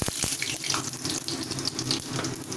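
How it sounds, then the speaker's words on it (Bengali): Fenugreek and cumin seeds drop into hot mustard oil, setting off a sharp burst and then a loud, rushing sizzle that stays close and constant. "সর্ষের তেলটি তেতে উঠলে আমি এখানে ফোড়নের জন্য রেখেছি মেথি এবং জিরে"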